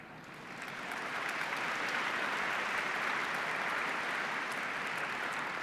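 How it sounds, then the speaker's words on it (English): An audience at the 2014 National Science Bowl middle school championship match breaks into sustained applause, a dense, even wash of clapping that swells within the first second and holds steady with no voices over it. "it's really nice to hear applause for a change"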